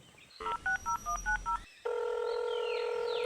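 A telephone number is dialled for a call home, with six short clear keypad tones in a quick even run, a brief silence, and then a steady tone that holds to the end.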